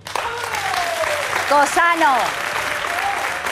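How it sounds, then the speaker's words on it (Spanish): A studio audience on a television talk show applauds a guest's arrival, a steady wash of clapping under which voices call out and speak briefly. "estamos encantadas de recibir con un fuerte aplauso a Cristina"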